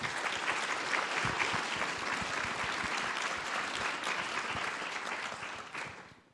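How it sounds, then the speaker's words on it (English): An audience at a stage session of a democracy forum in Warsaw applauds steadily, a dense sustained clapping that holds at even loudness, then fades out near the end with no voices over it. "maybe we'll give them a round of applause"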